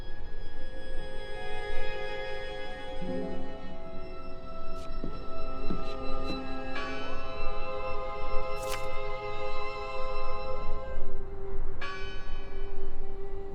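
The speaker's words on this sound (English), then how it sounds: "Listen! The bell! They're still in there!" A church bell tolls in the video game Draugen, its long ringing tones overlapping with a few sharper strikes over steady ambient noise, sounding moderately near and sustained throughout.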